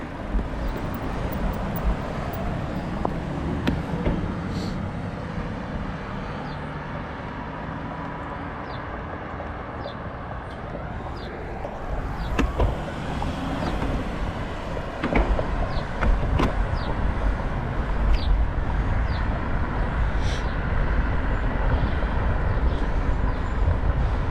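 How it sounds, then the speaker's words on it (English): Road traffic passing along a roadside bike route near Mines of Spain, a continuous rumbling wash of cars with louder swells as vehicles go by, heard from close beside the road without talk. "And of course, traffic."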